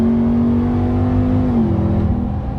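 Ram TRX truck with a replacement muffler, floored from inside the cab, its engine droning loud and deep with a steady low exhaust tone that shifts as it accelerates over a couple of seconds.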